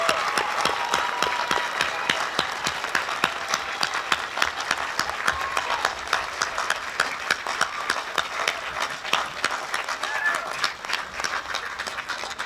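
Audience at a college graduation ceremony applauding top scholars: dense, sustained clapping from many hands at an even level throughout, with no voices standing out.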